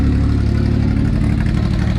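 A loud Volkswagen engine with headers idles with a deep, throaty exhaust rumble, steady and close, with a slightly uneven lope.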